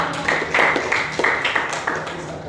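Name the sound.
applause, audience clapping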